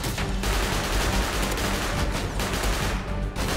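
Rapid, dense gunfire in Rust, continuous loud bursts of shots overlapping with brief gaps, close and harsh across the whole span.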